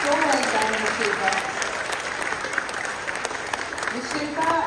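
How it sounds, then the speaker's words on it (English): An audience at a school assembly claps in a steady, dense round of applause, with voices talking underneath. "let's give a huge round of applause"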